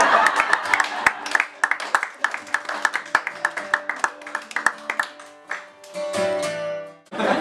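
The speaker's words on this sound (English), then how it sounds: "You can clap, that's fine." A small audience at a private house concert claps in scattered, uneven bursts, crisp individual hand claps popping up close by and thinning out, with voices murmuring toward the end.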